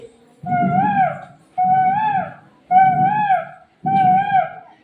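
A human voice imitates a koel's call four times in a row, each a rising, whooping note, evenly spaced and loud, with nothing else around.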